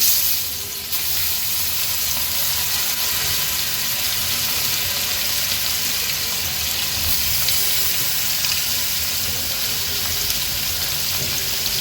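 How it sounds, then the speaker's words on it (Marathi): Pieces of hilsa fish sizzle and crackle loudly in hot oil, a steady bright hiss with small pops continuing throughout, no voices. "आता एक एक करून ह्या तुकड्या मी तेलावर सोडते"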